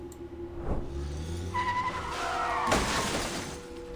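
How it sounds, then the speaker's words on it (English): Car tires screech past in the video game Reverse 1999, a loud skidding squeal with sharp crashing bursts, heard alone without talk. "The car screeches past, almost hitting them"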